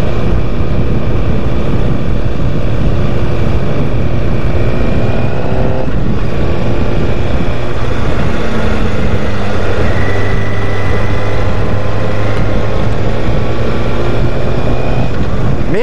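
A Kawasaki Ninja 636 sport bike engine drones loudly while riding, its pitch rising and falling through gear changes, with heavy wind rush close by.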